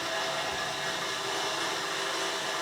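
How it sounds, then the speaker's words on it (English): A power tool cuts through a car exhaust pipe in an engine bay, a continuous loud, even grinding whine that holds steady without pause for the whole stretch. "just start cutting the pipe up"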